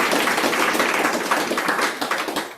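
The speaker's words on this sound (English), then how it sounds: "So clap for yourself for being here." Audience at a Srimad Bhagavat Saptaham religious gathering clapping together, a dense steady patter of many hands that holds loud for a couple of seconds and then thins slightly toward the end.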